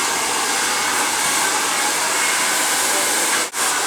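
A hair dryer blows steadily at close range while hair is blow-dried after a layered haircut, a loud continuous airy roar with a brief dip near the end.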